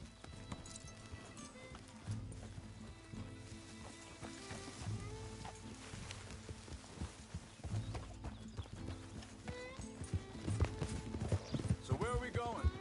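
Horse hooves clip-clop in a steady rhythm over ambient Red Dead Redemption 2 game sounds, with people talking intermittently and the hoofbeats growing louder toward the end.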